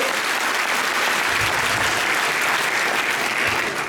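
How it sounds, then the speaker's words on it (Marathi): Steady, loud applause from an audience at a motivational talk, continuous clapping filling the whole stretch without pause. "एकदम जोरदार टाळ्या होऊन जाऊ दे"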